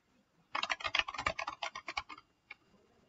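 Username and password typed on a computer keyboard, a quick close run of crisp key clicks for about two seconds, then one isolated tap after a brief gap, in an otherwise quiet room.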